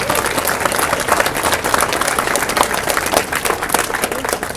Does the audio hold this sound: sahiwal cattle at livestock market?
no